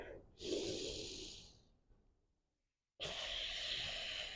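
Slow, deep yoga breaths near the microphone: a long hissing inhale that fades away into near silence, then another strong, steady breath starts abruptly and carries on to the end.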